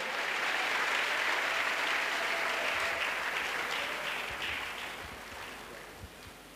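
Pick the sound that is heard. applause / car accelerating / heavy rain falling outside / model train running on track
applause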